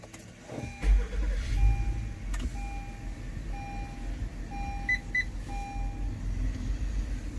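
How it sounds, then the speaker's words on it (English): A 2023 Honda Odyssey Touring starts with a short low thump and settles into a quiet idle, while a series of electronic chimes repeats evenly over the engine hum. "press the engine stop start button."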